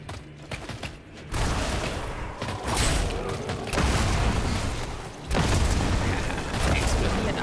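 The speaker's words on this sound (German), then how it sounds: "Ich mag das mit dem Explodieren super." Explosions in the action game Diablo Immortal, a dense run of loud booming blasts and crackling bursts that swell in waves over the clip, mixed with game effects.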